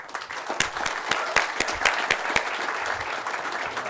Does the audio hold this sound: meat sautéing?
no